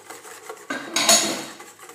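A spoon stirring flour, sugar and salt into pastry cream in a metal pot, soft scraping strokes that build into a louder, brighter clatter against the pan near the end, close and with no talking.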